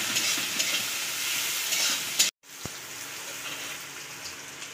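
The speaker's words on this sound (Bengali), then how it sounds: "পেঁয়াজটাকে ভালো করে ভেজে নেব।" Finely sliced onion frying in a pan for Katla fish biryani gives a steady, close crackling sizzle that breaks off sharply for a moment partway through, then resumes more softly with a faint scrape of stirring.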